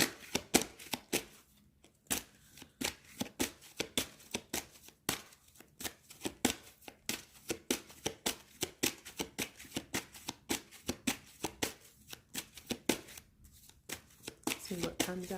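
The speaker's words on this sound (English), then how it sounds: "I just want to pull a couple general cards of guidance" Tarot cards being shuffled by hand, a steady run of crisp riffling flicks repeating in quick rhythmic bursts, close and clear, with soft talking underneath.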